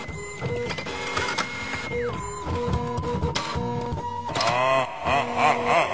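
A backstage printer runs loudly and busily, with whirring motor tones that step and glide in pitch, dense mechanical clicks and clatter, and a shifting warble near the end, with no talk.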